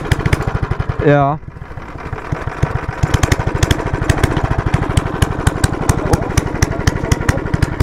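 A 270cc engine on a motorized beer crate chugs and revs steadily with a rapid, rough, pulsing putter, loud and close, while a voice briefly speaks near the start.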